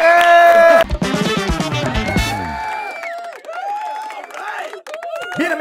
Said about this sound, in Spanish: Aplausos, por favor, para Felipe Pérez